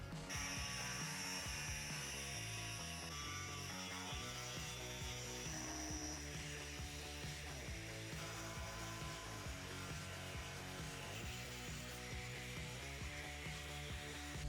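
Power cutting tool slicing through the front bumper of a Chevy Colorado ZR2 with a continuous, loud mechanical whine and rattling buzz that varies slightly in pitch as it follows the cut line.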